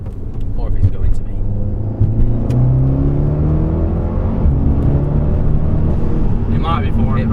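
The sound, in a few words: Audi S3 8V with custom valved exhaust accelerating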